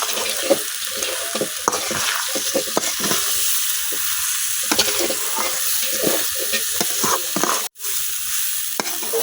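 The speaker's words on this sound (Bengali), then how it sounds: "এখন চাল আর ডালটা কিছুক্ষণ কষাই নিলাম।" Rice and lentils with spices are stirred in oil in a pot, a steady close sizzle broken by repeated scraping strokes of the spoon, with one brief sharp knock near the end.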